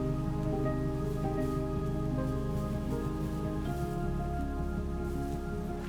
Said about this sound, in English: Oh, started raining.